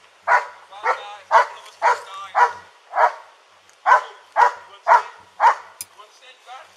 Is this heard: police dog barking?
yes